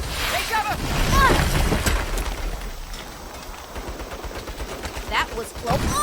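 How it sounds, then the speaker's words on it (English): Turret gunfire bursts out in the Saints Row reboot video game amid loud, chaotic action, with sharp shots scattered across the clip and an excited voice shouting over the din. "Turrets! Take cover!"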